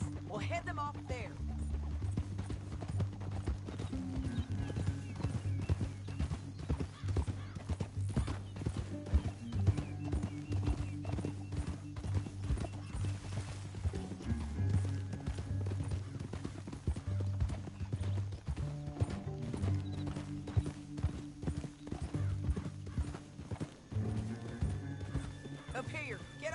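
Steady clip-clop of horses' hooves with an occasional whinny in Red Dead Redemption 2, running continuously under a rumbling music bed and voices.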